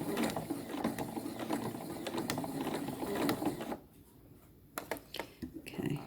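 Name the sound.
sewing machine stitching a drawstring bag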